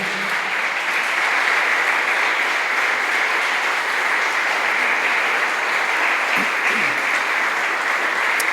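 A church congregation applauding during a worship service, sustained even clapping from many hands filling the room at a steady level throughout, with a few faint voices underneath.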